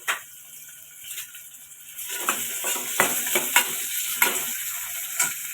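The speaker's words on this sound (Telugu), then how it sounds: "ఆనియన్స్, ఇవి వేసాక బాగా కలుపుకోవాలి." Sliced onions and green chillies go into a mutton liver curry and are stirred, setting off a sizzle that swells from quiet to loud, with repeated spoon scrapes and clinks against the pan.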